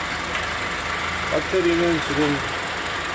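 A Kia New Carens idles with a healthy engine and no knocking, a steady low hum and vibration close by, while someone briefly speaks over it.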